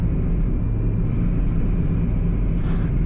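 Car engine rumbling steadily as the driver accelerates on a driving test route in Hull, a low continuous drone with a rising tone heard from inside the vehicle and no talking.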